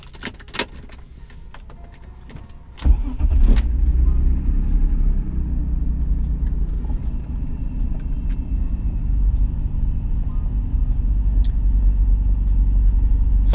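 A BMW E46 fitted with new Revshift engine and transmission mounts cranks to life after a few faint clicks, then settles into a steady, deep, close idle rumble that carries on to the end.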